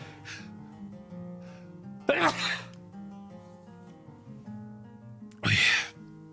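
A single sharp sneeze bursts out near the end, close to the microphone, after an earlier short breathy gasp, with a steady background hum underneath.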